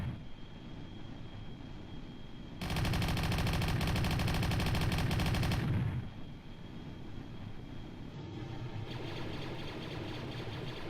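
Hellblade aircraft firing guns in Kerbal Space Program, a loud dense burst of rapid fire lasting about three seconds over a steady engine drone, then a second fainter burst near the end.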